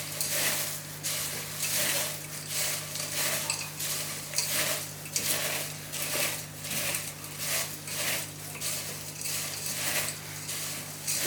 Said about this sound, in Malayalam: ഇതെല്ലാം കൂടെ നന്നായിട്ട് മിക്സ് ചെയ്യാം